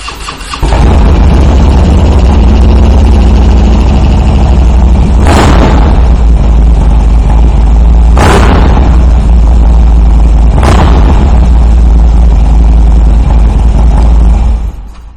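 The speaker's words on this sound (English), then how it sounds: "fire this bike up so you can hear that Bassani exhaust" A 2017 Harley-Davidson Dyna Street Bob motorcycle fitted with a Bassani exhaust starts up and settles into a loud, deep, steady idle. Three sharp throttle blips punctuate the idle, with no talking.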